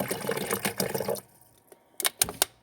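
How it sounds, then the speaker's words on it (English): Bottled water pours into a cooking pot for noodle soup in a burbling, splashing stream for about a second, followed by a few sharp clinks and knocks. "so I figure if I pour in a bottle and a half"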